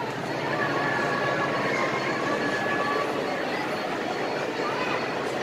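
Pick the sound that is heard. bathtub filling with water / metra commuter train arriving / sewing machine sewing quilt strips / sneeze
metra commuter train arriving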